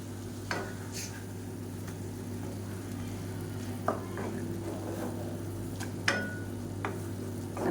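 A masala omelette sizzles in a pan with a soft, continuous frying hiss, broken by a few sharp clicks and scrapes of a spatula against the pan, with a low steady hum underneath and no speech.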